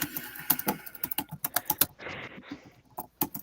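Rapid typing on a computer keyboard, a dense burst of close, crisp key clicks with a short pause midway before the tapping resumes.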